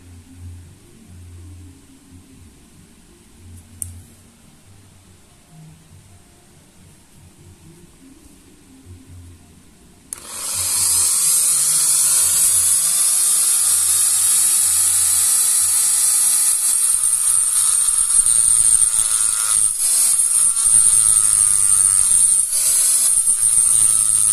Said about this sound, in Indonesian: kita coba gerinda di sebelah sini nih, sedikit aja.